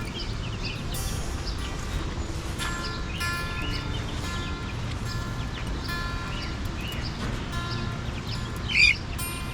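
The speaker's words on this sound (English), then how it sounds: "Go ahead and finish that up, birds." Backyard birds chirp and tweet while pecking at feed on a homestead, a steady scatter of calls at moderate distance over low outdoor background noise, with one sharper call near the end.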